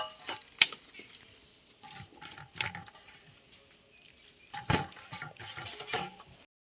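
Grated potato being dropped into a bowl of water: a few soft splashes and watery clatters in short bursts, separated by quiet gaps, fairly close but low in level.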